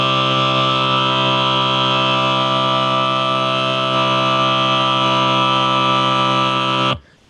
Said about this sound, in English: So here's what a triad sounds like